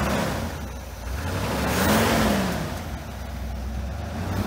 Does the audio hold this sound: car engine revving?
yes